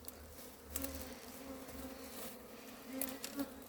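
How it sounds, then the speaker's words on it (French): A swarm of honey bees buzzing during the recovery of a swarm in Varennes-sur-Seine, a steady faint drone with individual bees flying close past, no talk. "il y a plein d'abeilles"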